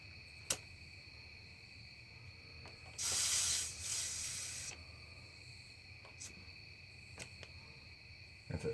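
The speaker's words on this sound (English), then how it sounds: "I'm going to take the air and just give it a little spritz of air" A single short burst of compressed air into a Honda Goldwing GL1500 SE front fork valve, a bright hiss of about two seconds standing out against faint background crickets.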